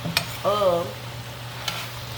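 Chicken, sausage and shrimp sizzle in a pan as greens are stirred in, with a soft steady frying hiss, a couple of sharp utensil scrapes, and a brief voiced sound partway through.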